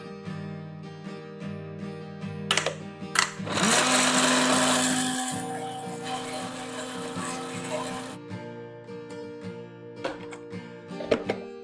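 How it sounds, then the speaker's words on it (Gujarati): A kitchen mixer grinder whirs loudly for about five seconds, crushing grated ginger and garlic cloves with a little water into a smooth paste. A voice speaks before and after the run. "આ પેસ્ટને આપણે એકદમ સ્મૂધ ક્રશ કરવાની છે"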